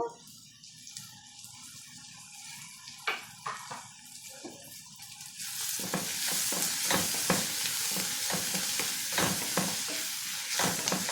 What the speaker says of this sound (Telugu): ఇంకా కొద్ది కొద్దిసేపు ఇట్లనే వేయించుకున్నాము